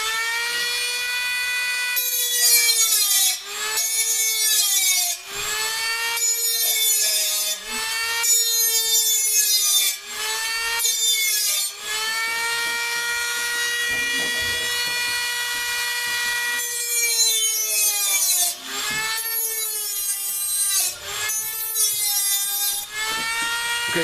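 A Dremel rotary tool cuts holes in thin metal for a homemade wood gas stove, giving a loud, continuous high-pitched whine with whistling tones, broken by several short pauses and repeated bursts of grinding, close up with no talking.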